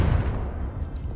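A short, heavy blast from the Confringo spell in Hogwarts Legacy, a booming burst of fiery energy that rumbles loud and close before quickly fading.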